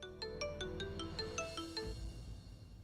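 A phone rings with a bright melodic ringtone, a rapid run of tonal notes that stops abruptly after about two seconds, alone and moderately loud.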